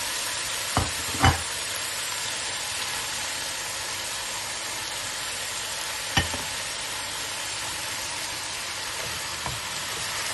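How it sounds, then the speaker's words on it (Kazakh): Close, constant sizzling of potatoes, cabbage and carrot frying in a pan, broken by a few sharp scrapes and knocks of a stirring utensil. "Кішкене қуырып аламыз, сосын барып түбіне азғантай су құйып, баяу отта бұқтырып пісіреміз."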